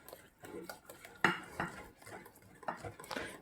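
A spoon stirs chocolate cake batter in a bowl, scraping and knocking against the sides with uneven strokes and a few sharper clinks, close by and without talk.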